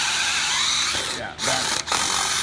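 A DeWalt DCD996 second-generation brushless drill fitted with a dull bit whines loudly and steadily, briefly dipping and catching twice as it bites, with a voice faintly underneath.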